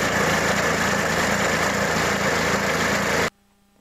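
A tractor engine runs steady and loud, a dense, constant drone with rumbling vibration and no talk, cutting off abruptly into silence near the end.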